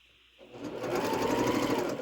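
A sewing machine stitches a snowflake quilt block from fabric, starting after a quiet moment and settling into a close, steady, rapid hum of stitching.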